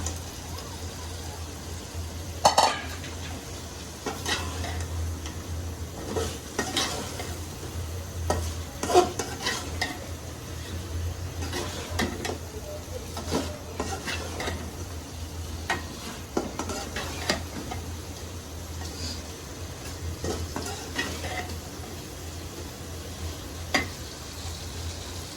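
Fried fish pieces are stirred into a cooked-down spice masala in a pan. A soft, steady sizzle runs underneath while a spoon scrapes and knocks against the pan at irregular intervals, quiet and close.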